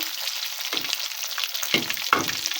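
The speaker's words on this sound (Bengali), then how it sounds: "মাছগুলো আমি উল্টে দিয়েছি একদম লাল লাল করে ভেজে নেব" Mixed sea fish sizzles steadily in hot oil, a dense close crackle broken by a few soft scraping knocks.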